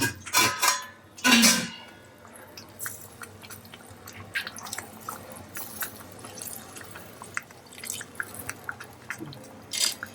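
Water splashes into a pan of stuffed eggplant masala curry in two quick glassful pours, followed by scattered clinks and light drips of cookware on a quiet background.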